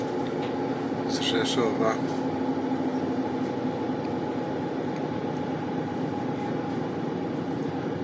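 An EP07 electric locomotive hauling a passenger train rumbles past near the Rzeszów line, a steady loud rolling roar with brief metallic squeals, while a voice speaks briefly over it.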